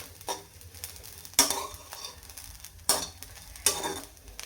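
Cluster beans are stirred and roasted in a dry iron kadhai with a spatula, giving short scraping clatters at irregular intervals over a faint steady sizzle, close and fairly quiet.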